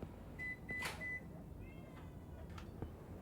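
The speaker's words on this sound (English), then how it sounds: "Heard a cat." A cat meows a few times inside a kitchen in The Bookwalker: Thief of Tales, soft and distant over a quiet ambient hum and a thin steady tone.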